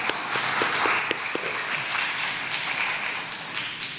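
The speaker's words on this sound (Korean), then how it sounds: "하나님께 영광의 박수 올려드리겠습니다." A church congregation at a Sunday worship service gives sustained, even applause, a full-room clatter of many hands heard at moderate distance, gradually thinning toward the end.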